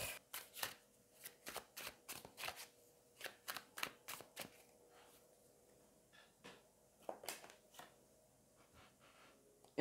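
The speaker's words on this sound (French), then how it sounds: "On va aller prendre 2 cartes." Tarot cards handled and drawn one by one, quick crisp riffles and snaps in clustered bursts, then softer slides and taps, close and quiet with no talk.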